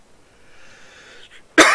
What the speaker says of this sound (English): I must apologise if I start coughing a lot.